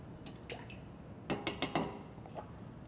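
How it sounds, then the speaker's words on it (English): A paintbrush is rinsed in a container of water, giving soft drips and a short burst of sloshing, splashy strokes in the middle, quiet and close with no voices. "I'll clean it with the rag first, then I'll clean it with the water."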